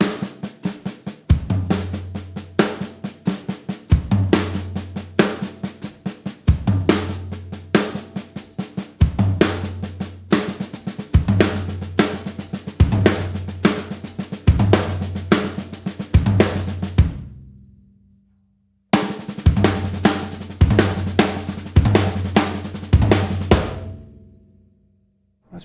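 A drum kit groove alternating strong hits with soft ghost notes in a steady repeating pattern, briefly stopping then resuming; no talking.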